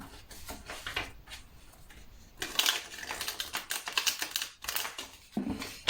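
Tarot cards being shuffled by hand during a card reading, a run of quick papery riffles and slaps that grow denser and louder midway, close and alone with no talking.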